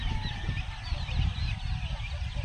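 Free-range chickens and chicks on a farm at feeding time, a dense flock clucking and peeping steadily at close range, with wind noise.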